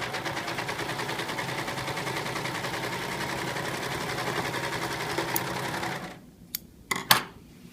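A serger stitches a narrow rolled hem in a steady, fast, continuous whir with rapid needle rhythm, running alone for about six seconds before stopping, followed by a few short clicks.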